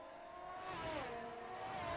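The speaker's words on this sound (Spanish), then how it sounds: "Os voy a poner un poquito más de sonido de motor de coches" Racing car engines in the F1 2022 video game at the Austria circuit whine steadily, their pitch dipping and then rising again as the cars run close together. The sound is continuous and moderately loud, with no voices.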